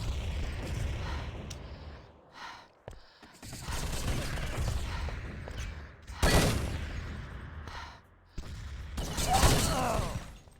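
In a competitive video game shooter match, bursts of gunfire and booming explosions come in separate loud clusters with short quiet gaps between them.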